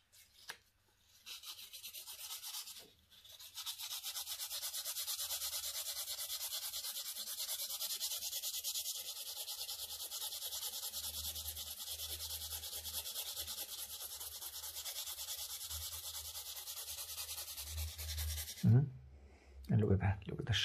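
Steady sandpaper rubbing on a carved ballerina figure, a continuous close scratchy hiss lasting most of the stretch, with brief handling knocks at the start and end.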